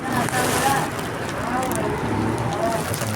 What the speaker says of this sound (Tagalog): Nagbukas ng mga ulan.